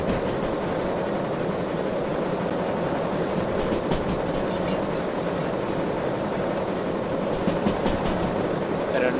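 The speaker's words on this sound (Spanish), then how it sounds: "la locomotora está empezando a sufrir para arrastrar el peso" A locomotive in the train game Derail Valley strains to haul a heavy load, making a loud, constant mechanical rumble and drone with faint rhythmic clatter running through it.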